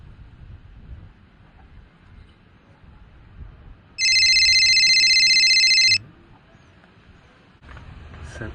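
A telephone rings loudly in one steady two-second burst of electronic ringtone, standing out sharply over a quiet, low background hum in an indoor setting.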